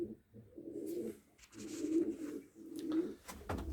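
Play pigeons, platinum and white-tailed birds, coo in repeated soft, throaty phrases at close range, with short pauses between each rolling call and the room otherwise quiet.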